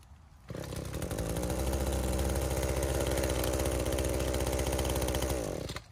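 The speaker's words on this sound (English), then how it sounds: "we're gonna do a warm start with the NGK plug. It should just be one pull." Echo PAS-2620 small two-stroke engine with an NGK spark plug, warm started: it catches after half a second and runs at a loud, steady buzzing idle for about five seconds before cutting off.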